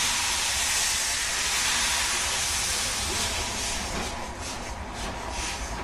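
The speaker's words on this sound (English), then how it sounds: "This is an ex-German built Kriegslok 210 locomotive, one of 300 handed over to Serbian railways as reparation after World War II." An ex-German Kriegslok class 210 steam locomotive, a big late-1930s-style engine working on Serbian railways, gives off a loud, steady broadband hiss of escaping steam that fills the whole scene with little variation.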